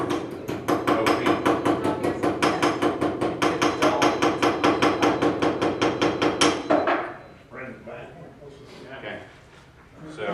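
A hammer strikes a metal blade while bending it, hitting in a fast steady rhythm of close, loud, ringing blows before stopping, after which someone talks.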